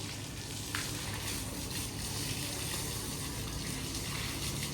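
Water splashing and pouring as two people bathe outdoors, a continuous quiet gushing hiss with no voices, steady from start to finish.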